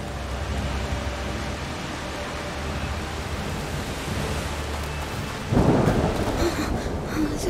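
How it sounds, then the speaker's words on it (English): Steady heavy rain pours throughout in the video game A Plague Tale: Requiem, with a rumble of thunder swelling near the end, loud and close. "The rain is getting worse."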